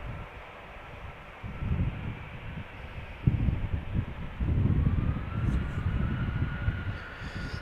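An Emirates Airbus A380 on flight 147 approaches to land at Amsterdam Schiphol, heard as a distant low engine rumble that swells and then holds steady, with some wind noise on the microphone.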